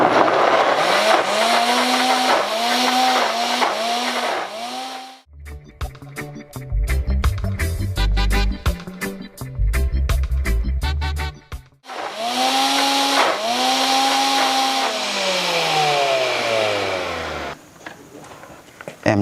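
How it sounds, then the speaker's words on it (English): A blender runs on high, blending diced coconut with water into coconut milk. The motor whine rises and falls in pitch, with a choppy, grinding stretch in the middle, loud and close throughout. "I'm adding 1 cup of water to my blender to create coconut milk"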